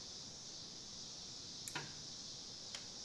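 Relays in a lithium-ion battery pack upgrade for a Solectria E10 electric car give two small, sharp clicks about a second apart, faint against a constant high buzz of cicadas outdoors.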